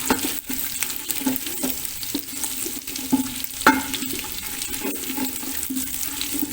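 Cloves, black pepper and coriander cook in a pan for an egg korma, a close crackling sizzle with a low steady hum beneath and frequent spoon scrapes and taps, no one speaking.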